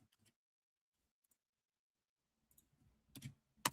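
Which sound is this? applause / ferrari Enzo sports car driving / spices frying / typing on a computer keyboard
typing on a computer keyboard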